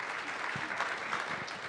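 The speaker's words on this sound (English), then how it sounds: "That's a hand clap." A brief burst of audience applause at a community forum on violence, a dense wash of clapping heard at a moderate distance, faint and short.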